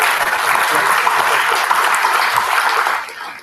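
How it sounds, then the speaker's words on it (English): An audience at the TIFAC-IDRIM 2015 event gives a loud round of applause to welcome the Minister of State for Home Affairs, a thick burst of clapping that fades out after about three seconds. "Can you have a huge round of applause"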